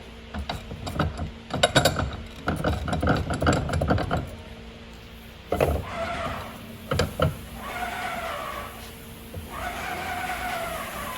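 Old piston rod being worked loose and removed from a Wagner/Titan airless paint pump, with bursts of close ratcheting and metallic clanking that come in quick runs, then a pause, then a few sharper knocks and a fainter scraping. No voices.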